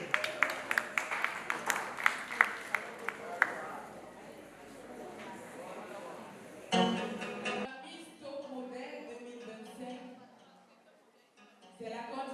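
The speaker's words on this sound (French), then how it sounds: "Est-ce qu'on peut applaudir pour elle?" Pageant audience at a Miss Maman Africa contest clapping in a quick run of sharp, scattered claps that thin out after a few seconds, followed by music and a voice speaking.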